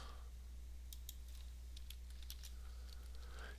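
Quiet computer keyboard typing, a few light scattered key clicks over a low steady hum, with no voices.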